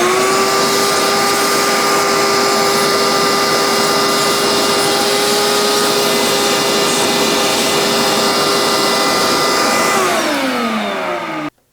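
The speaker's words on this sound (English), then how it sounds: "we're gonna vacuum inside there and get the leaves" A vacuum cleaner runs loudly and steadily with a high whining motor tone, cleaning leaves out of an Acura NSX cabin air filter housing, then winds down and shuts off near the end.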